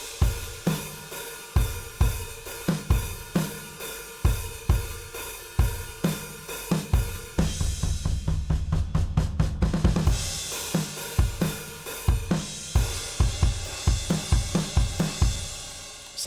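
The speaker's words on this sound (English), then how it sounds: "Sounds really good for a MIDI drum kit." A MIDI drum kit plays a full drum part with steady kick and snare hits, busy cymbals and a dense fill section in the middle, loud and close.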